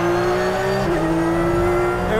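Porsche 911 GT3 R race car engine at speed from inside the cabin, a loud, steady, high-pitched howl held nearly constant with a brief dip in pitch midway, heavy road roar underneath.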